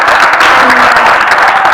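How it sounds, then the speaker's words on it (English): An audience claps for a businesswoman at a nutrition event in Kisumu, Kenya, giving a loud, dense, continuous round of applause from a crowd close by, with voices mixed in beneath it. "Yes, clap for her."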